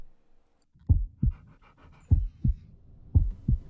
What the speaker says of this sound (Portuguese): Esse cachorro é marrom e grande